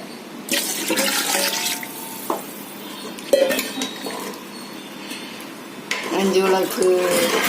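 Water pours and splashes into a metal cooking pot in bursts, with clinks of cookware and a brief hiss between pours, close by.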